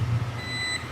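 A multimeter's continuity buzzer, set to test a fuse in a Crell CA8 class AB power amplifier, gives a single short, steady high-pitched beep over a low hum.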